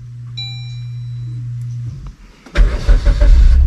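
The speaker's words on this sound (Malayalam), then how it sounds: "ന്യൂട്രലാക്കിയതിന് ശേഷം ഞാൻ ഇതാ സ്റ്റാർട്ട് ചെയ്യുന്നു." A car parked on a steep uphill slope is started with the brake held and the gear in neutral. A steady low tone plays first, then a brief crank catches into a loud, rumbling engine.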